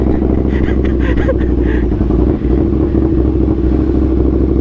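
A KTM Superduke 1290R motorcycle idles and rumbles close by after starting, a steady loud engine drone holding through the whole stretch with a brief dip midway, no talk over it.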